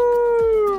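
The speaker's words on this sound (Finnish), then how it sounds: "Haski alkoi ulvoa." A husky dog lets out a single sustained howl at an outdoor market in Spain, a loud, clear, slightly falling tone lasting under a second with no talk over it.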